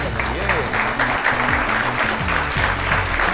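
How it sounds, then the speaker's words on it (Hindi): A studio audience claps loudly and steadily for four teams on an Olympic quiz show, with musical tones running underneath the applause throughout. "इन चारों टीमों का स्वागत कीजिए तालियां बजाकर।"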